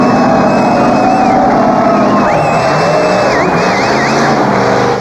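A car engine, deliberately drained of oil and water with sand poured into the crankcase, is revved hard to about 5,000 RPM, a loud sustained roar with wavering pitch and a tone that shifts as the revs climb and hold.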